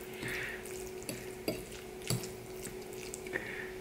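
Jajangmyeon black bean noodles being mixed into thick bean sauce, soft wet squelching and smacking with a few sharper utensil clicks, close and continuous.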